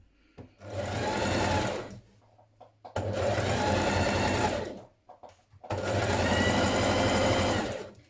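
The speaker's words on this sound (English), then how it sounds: "continue stitching the rest of the way down your side seam" Sewing machine running in three steady bursts while stitching the side seam of a coat, each run loud and continuous with brief quiet pauses between, no talking.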